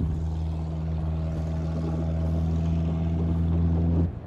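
A Ford F-150 Platinum with its muffler gone roars in a loud, steady, deep engine drone for about four seconds, close and unbroken, then cuts off at the end.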